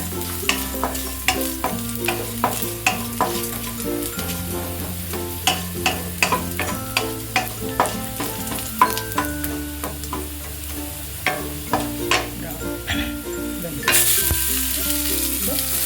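Garlic browning in oil in a pan for a ladies finger fry, a continuous sizzle with regular spatula taps and scrapes, while steady background music plays over it.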